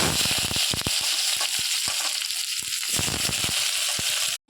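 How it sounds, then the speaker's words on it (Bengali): Chopped onions fry in hot oil for a mixed vegetable dish, a continuous close sizzle broken by frequent sharp crackles and pops, with no talk. "প্রথমে তেল গরম হয়ে গেছে পেঁয়াজ কুচি দিয়ে"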